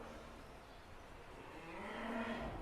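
A cow moos low and drawn-out in a calving pen on a cattle farm, a faint call rising near the end against a steady noisy barn background.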